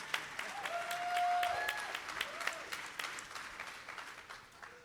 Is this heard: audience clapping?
yes